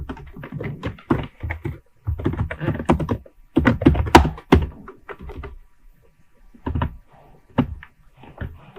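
Fast computer-keyboard typing while entering data into an Excel sheet: clusters of crisp, close key clicks in uneven bursts with short pauses, a few isolated taps near the end.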